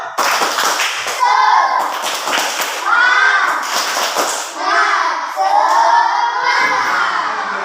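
A class of fourth-grade primary school children performs a rhythmic spirit clap, a loud, busy mix of clapping and shouting voices with a teacher leading, repeated in bursts that fill the room.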